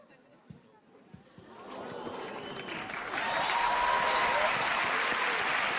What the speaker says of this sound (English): I cannot accept that much applause for a subpar memory demonstration